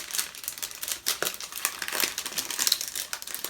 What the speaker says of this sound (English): I do like to be able to rifle through my die cut packs